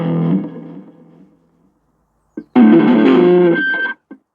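An electric guitar played through an amp's distortion setting gives a decaying chord, a short silence, then a loud fuzzy strummed burst that cuts off abruptly.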